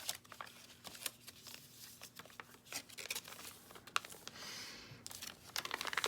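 Paper is cut with scissors to shape a triangle for a homemade gift bag, producing quiet, close snips mixed with crinkling and rustling handling noise.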